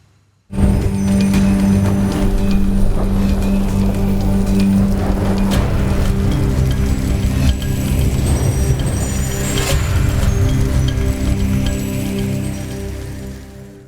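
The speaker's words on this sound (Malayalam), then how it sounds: "പെരുമഴ പെയ്ത്ത്." Heavy monsoon downpour during a red-alert spell of extreme rain in Kerala, a dense, steady roar of rain that holds loud and constant for the whole stretch, with no voices.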